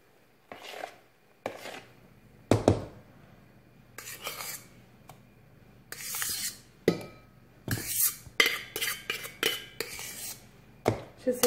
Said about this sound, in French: Et vous les mélangez délicatement.